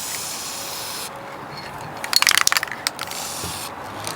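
VHT silver spray paint sputtering from an aerosol can during a back box delete on a Land Rover Freelander 2, a short burst of uneven hissing bursts and spits midway through, close by, without talk.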